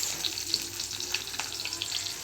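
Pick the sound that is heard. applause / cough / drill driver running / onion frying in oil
onion frying in oil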